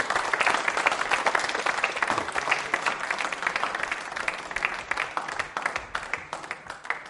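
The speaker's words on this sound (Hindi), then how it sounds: "तालियां जोरों से बजाइए।" An audience at a quiz show on the Indian Constitution gives a lively round of applause, dense at first and thinning into more distinct separate claps as it fades.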